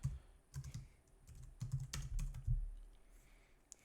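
Typing on a computer keyboard, close and quiet, comes in uneven bursts of soft clicking keystrokes over about four seconds, with brief pauses and no talk.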